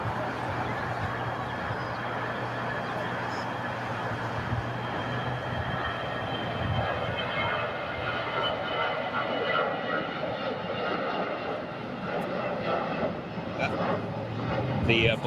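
An Airbus A320 takes off from runway 25 right at LAX, a sustained, loud engine roar holding steady throughout while a voice talks over it.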